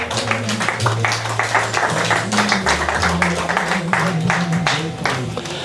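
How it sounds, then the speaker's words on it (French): Audience applause for Georges Brival at an induction ceremony at the Mémorial Chimen Viré: dense, sustained clapping from a large crowd, loud and close, with a low droning musical tone underneath throughout. "Sous vos applaudissements,"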